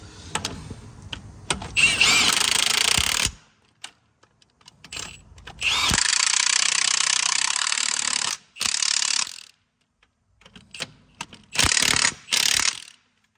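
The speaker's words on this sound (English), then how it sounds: "On the gun. Oh, I want these impact sockets. It's a new Milwaukee gun, you see, so they're always a bit stiff." Bursts of a new Milwaukee impact gun hammering on impact sockets while working on a truck, four loud rattling runs of a few seconds each separated by short pauses, close up with no talking.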